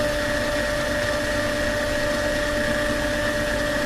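Chocolate cake batter with cottage cheese and milk churning in a stand mixer, a steady motor whine with a constant tonal hum, loud and close throughout with no talking.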